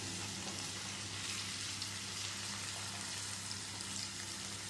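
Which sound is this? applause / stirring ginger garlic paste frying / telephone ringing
stirring ginger garlic paste frying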